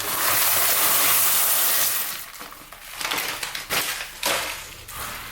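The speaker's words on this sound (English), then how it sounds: "Just gonna get my beans and throw them right in there." A burst of rushing, clattering sound as dried beans are poured into a bowl of cold water, followed by a few scattered rattles and splashes.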